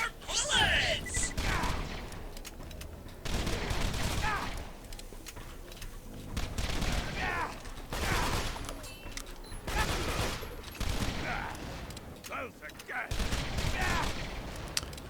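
Gunfire in Borderlands 2, a boss fight against Thermitage the Scaylion, with repeated bursts of shots and impacts spread across the clip, some louder volleys, under occasional voices.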